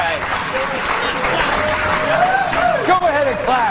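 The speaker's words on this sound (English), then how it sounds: "Go ahead and clap." Studio audience clapping on a Fox News late-night talk show, steady dense applause filling the clip with whoops and voices mixed in over it.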